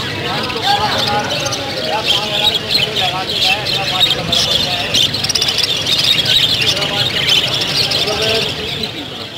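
Many birds squawk and chirp in a dense, continuous chorus at a Sunday bird market in Lalukhet, with pigeons among them, mixed with crowd babble throughout.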